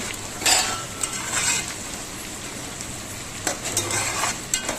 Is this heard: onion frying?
yes